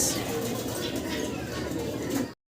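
Crowds of pigeons coo and flutter at a large pigeon farm, a steady, dense murmur of soft calls filling the space close by, continuing evenly before cutting off abruptly.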